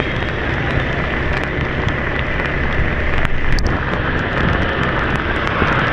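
Heavy downpour with wind on a street in Nha Trang near Cho Dam market, a steady dense roar of rain and gusting wind throughout, with no voices.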